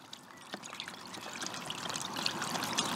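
Liquid additives stirred into a container of water to make fishing groundbait: a steady, close wet swishing and trickling that grows slightly louder, with no talk.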